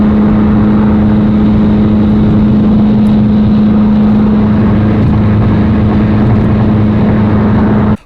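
A rebuilt Mitsubishi Evo engine drones loud and steady while the car drives on the road, a constant low hum with road and wind roar throughout, cutting off abruptly at the end.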